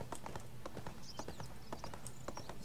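Horse hooves clip-clopping at a steady walking pace in the ArcheAge video game, faint and regular with a few soft game chimes layered over them.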